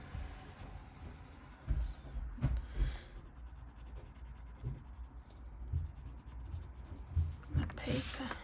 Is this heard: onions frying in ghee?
no